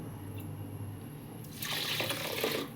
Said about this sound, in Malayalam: നമുക്ക് വെള്ളം പാരാം.